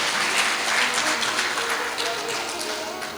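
An audience claps at a MahaKumbh devotional discourse in Prayagraj, a dense, steady burst of applause that tapers slightly over about three seconds.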